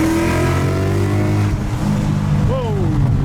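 A tuned 2017 Ford Mustang GT engine roars under full-throttle acceleration, a loud, deep, rising drone that drops away briefly before pulling again, with a voice under it.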